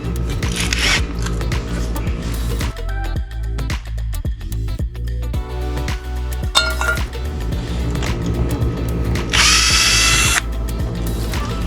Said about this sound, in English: we take our 9/16 nut driver, and I like to do the motor bolts first